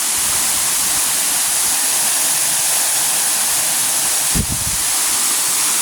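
Steady, loud rush of the sixth tier of a waterfall at Kanching Eco Forest Park, a continuous broadband roar close to the listener, with one brief low thump near the end.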